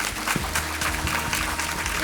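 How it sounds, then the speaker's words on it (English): Audience applause for a conference panel at a procurement summit in Los Angeles, a steady patter of many hands clapping filling the short stretch. "Let's give another round of applause to our panel one"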